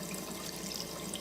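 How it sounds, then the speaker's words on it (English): Water running and splashing at a bathroom sink in the video game Rue Valley, a steady soft wash of tap water heard alone for a moment. "Let's splash some water on our face."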